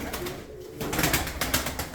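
A racing pigeon coos softly at close range, low throaty calls mixed with faint wing rustles in a loft, while someone talks quietly nearby.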